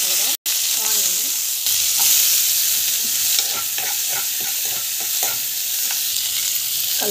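Mustard seeds, cumin, curry leaves, coriander, green chilli and onion frying in hot oil, a bright close sizzle with stirring and spatula scrapes, briefly interrupted near the start, then continuing steadily.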